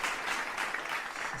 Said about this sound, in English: Now let's get in the round of applause.